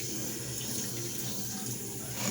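A bathroom tap runs in a steady, close rush of water into a sink while face scrub is rinsed off, continuous and unbroken with no voices.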